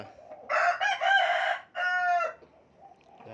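Two loud, close crows from breeding roosters ring out one after another, followed by a short quiet stretch with faint clucking.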